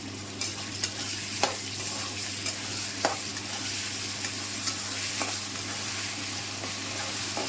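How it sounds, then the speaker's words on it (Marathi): Ginger garlic paste fries with onion and tomato in a pan for dhaba-style dal tadka, giving a steady loud sizzle throughout, broken by several light stirring clinks, with no talk. "आलं लसूण पेस्ट करून घेतली होती ना ते टाकत आहे आणि ह्याला पण मी चांगलं तळून घेणार आहे"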